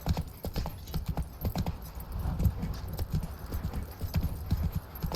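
Roach the horse trots in The Witcher 3, with hooves clip-clopping in a steady, even rhythm close by, moderately loud and continuous, with a faint voice at times.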